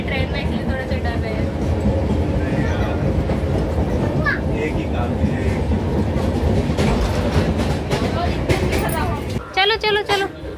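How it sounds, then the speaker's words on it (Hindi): A passenger train moving on rails, with a continuous rumbling clatter and rhythmic wheel noise, ending in a few sharp knocks, under a busy layer of background chatter and voices. "फर्स्ट टाइम रॉबिन ने ट्रेवल किया है ट्रेन में"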